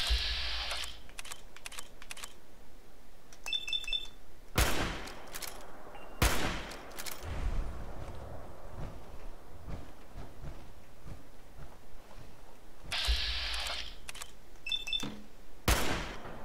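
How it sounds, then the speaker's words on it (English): A machine gun turret in Fallout 4 lets off several loud bursts of rapid fire, separated by quieter gaps filled with clicks and clattering. "Our machine gun turret."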